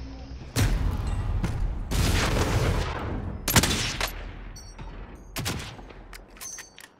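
Sniper and other gunfire in Call of Duty: Modern Warfare Warzone, several loud sharp cracks with booming tails spread across a few seconds, with a faint voice underneath.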